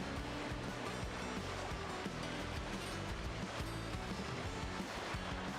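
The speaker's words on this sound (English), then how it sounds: "the sound of the waves and sound effects are so fucking loud" Ocean waves in the Final Fantasy VI video game roll as a continuous surf roar, steady and dense with no pauses, with no speech over it.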